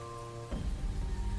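Rain begins falling abruptly, a steady broadband patter of drops that starts suddenly and continues evenly, fairly faint and close.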